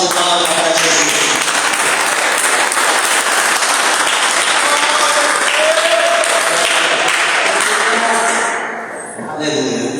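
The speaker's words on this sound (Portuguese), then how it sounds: "dê uma salva de palmas para Jesus" A church congregation breaks into loud, sustained applause, a thick continuous wash of clapping with voices mixed in, fading slightly near the end before a final surge.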